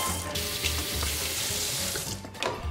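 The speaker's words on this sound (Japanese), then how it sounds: "あれ何、今洗うのね。" Steady running tap water splashes into a kitchen sink as produce is rinsed for a smoothie, a continuous close hiss of flowing water with no one speaking.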